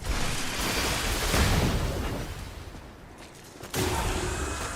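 Explosion in the action game Lies of P, a dense broadband roar that swells, dips toward the end, then bursts back loud, with no voices over it.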